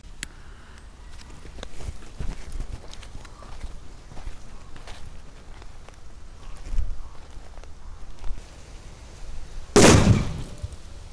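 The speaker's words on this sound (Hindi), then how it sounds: "अब टेस्ट करते हैं इस वाले गरुड़ बम को, देखते हैं ये कितना धमाका करता है" A single sharp, loud bang from a Garud bomb firecracker bursts out near the end after a stretch of quiet rustling and footsteps, followed by a brief ringing decay.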